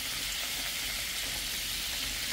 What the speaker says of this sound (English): it's something about the sound of food sizzling